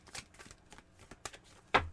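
Tarot cards shuffled by hand in a few short riffling bursts, quiet and close, ending in a sharper snap of cards near the end.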